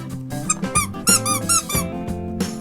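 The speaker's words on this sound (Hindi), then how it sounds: "ये हमारा मंकी जो है ब्लू कलर का और इसके पीछे भी चू चू की आवाज़ आ रही है" Blue rubber monkey bath toy squeezed repeatedly, giving a run of sharp, bright squeaks in an uneven rhythm, close and loud with no talking.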